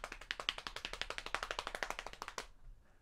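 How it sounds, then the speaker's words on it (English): Hands pat rapidly on knees as body percussion, a fast, even stream of about thirty crisp taps over two and a half seconds that stops abruptly and leaves quiet behind. "I want you to play on your knees as fast as you can"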